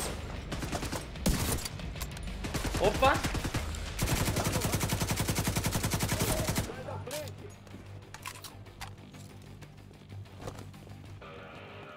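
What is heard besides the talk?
gunfire in the video game Tom Clancy's The Division 2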